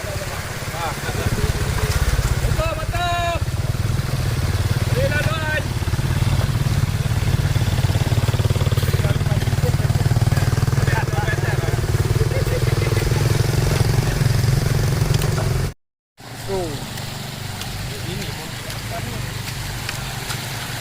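A motorcycle engine rumbles steadily and loudly throughout, with voices talking over it and a brief dropout near the end.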